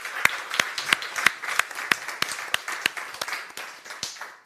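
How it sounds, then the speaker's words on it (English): A small conference audience claps sparsely, a handful of distinct, sharp hand claps at an uneven rhythm, close and fairly loud, with no voices over them. "This is your applause."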